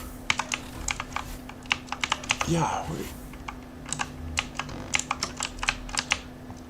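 Computer keyboard typing during a space survival game session, a quick irregular run of clicky keystrokes close to the mic, with a brief spoken word and a faint steady hum underneath.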